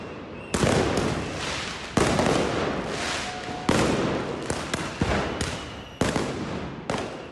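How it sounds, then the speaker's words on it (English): Fireworks launched at police during street protests in Tbilisi, Georgia, crack and burst in a rapid series of about seven loud, sharp blasts, each trailing off into crackling, with no talk. "Demonstrators have been firing fireworks launchers at police."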